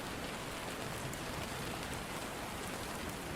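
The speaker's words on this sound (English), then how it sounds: "listen to the gentle sound of the rain" Gentle rain falls steadily as a dense, even hiss of drops with no pauses, soft and continuous without any voices.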